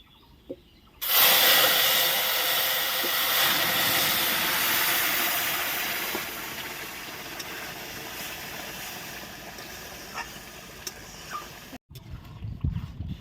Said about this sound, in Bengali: তেলটা আমার ভালো করে গরম হয়ে গেছে এবার আমি সর্ষে ফোড়নটা দিয়ে দেবো